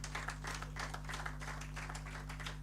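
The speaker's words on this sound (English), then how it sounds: "Please, another round of applause for him." Audience applause at a campus journalism awards ceremony, a faint, continuous patter of many hands clapping with slight swells, heard over a steady low hum.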